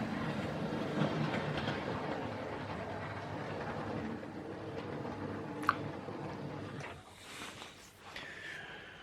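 A Hornby GWR model steam locomotive runs into a siding, its steady rolling rumble and faint track clatter filling the first several seconds before easing off, with a sharp click midway and a softer tail at the end.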